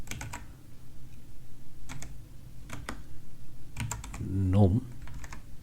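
Linux terminal commands go in on a computer keyboard as quick, close clusters of key clicks in short bursts, with a voice speaking briefly near the end.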